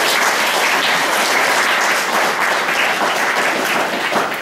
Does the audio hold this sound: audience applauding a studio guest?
yes